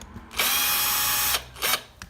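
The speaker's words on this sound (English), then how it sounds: "Let's just put in the last screws." A power drill drives screws into a lath and plaster wall beside a window, one long whirring burst followed by a shorter second pulse, close and fairly loud with no speech.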